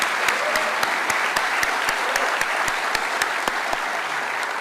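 An audience at a Brazilian political talk applauds in a dense, steady burst of clapping that holds at an even level throughout, close and loud.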